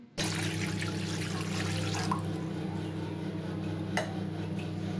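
Water pouring into a kadhai for making gajrela, a steady close splashing stream that runs alone for about five seconds over a low kitchen hum, with a faint clink near the end.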